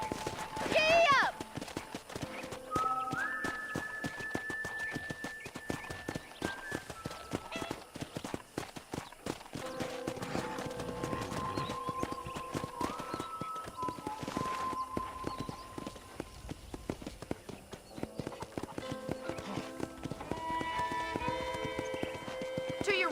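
A horse in the video game Red Dead Redemption gallops with a quick, rhythmic clip-clop of hooves that continues throughout. It whinnies once near the start, and a voice talks over the hoofbeats with game tones appearing now and then.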